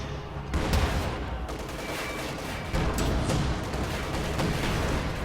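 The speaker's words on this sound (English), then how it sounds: "Raketenwerfer firing on the KV-8." A Raketenwerfer anti-tank gun fires in the Company of Heroes video game amid a dense battle soundscape, with sharp reports and booms in bursts over continuous rumbling combat noise, no voices.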